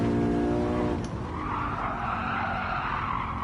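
Tires skid under hard braking on a Lexus LC500 at Watkins Glen in Gran Turismo 7: an engine note drops away as a loud, sustained tire squeal takes over and holds for a few seconds.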